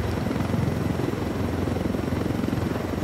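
A helicopter in Ghost Recon Wildlands sounds as a steady, loud, low rotor thrum and engine rumble, continuous and close, with no talk over it.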